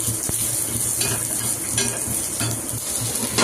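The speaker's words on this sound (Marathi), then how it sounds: "खोबऱ्यासोबत मी थोडंसं लसूण टाकते आणि थोडं अद्रक आणि 2 हिरव्या मिरच्या, हे पण ह्याच्यासोबत भाजून घेऊया" Grated coconut roasting in a pan with garlic, ginger and two green chillies: a continuous hissing sizzle with a few soft scraping stirs and a sharp tap near the start.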